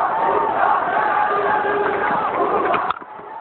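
Large cricket stadium crowd roaring and cheering steadily after a batsman hits a six, loud and sustained before dropping away near the end; the bat strike itself is not distinct.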